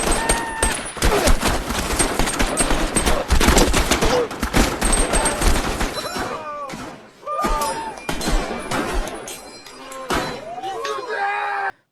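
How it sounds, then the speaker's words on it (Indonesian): Soldiers in the war film 71: Into the Fire fire steadily at North Korean troops, a dense, loud volley of rifle shots with clinks and impacts, later broken up by shouting voices between thinner bursts. "tentara pelajar peleton 1 menembaki tentara Korut yang mulai berdatangan tanpa henti"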